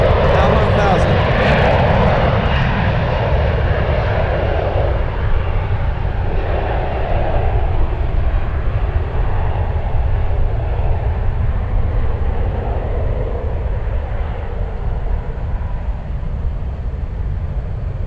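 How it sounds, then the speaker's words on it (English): A Delta airliner at San Francisco airport roars steadily, a loud broadband engine rumble that slowly fades over eighteen seconds. "Delta's 363 flying to JFK."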